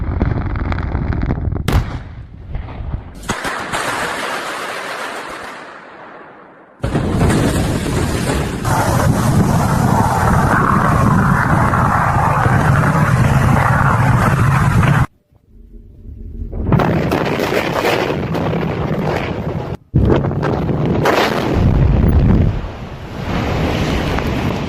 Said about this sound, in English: Thunderous blasts echo as debris flies through the air